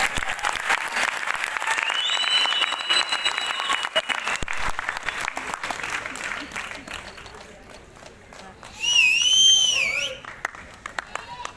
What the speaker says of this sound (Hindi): तो जोरदार तालियां होनी चाहिए यार